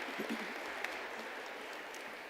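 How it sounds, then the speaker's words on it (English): An audience at a ministerial summit session applauds a panel, the clapping faint and distant, a soft continuous hiss of many hands in a large hall. "Could we please get another round of applause for this panel, ladies and gentlemen?"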